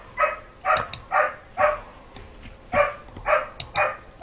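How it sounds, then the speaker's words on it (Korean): A dog barks again and again in short, sharp bursts at a steady, agitated pace. It is moderately close, with no talk. "강아지야, 짖지 말렴."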